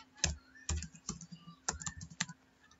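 Keys on a computer keyboard are tapped in short, irregular bursts while a password is entered during router setup, the clicks close and fairly crisp, with no one talking.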